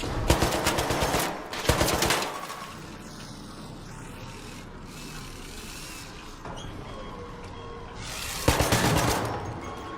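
Rapid automatic gunfire rings out in a video game, with two loud bursts at the start. After a stretch of quieter ambient game sound, another burst of shots comes near the end.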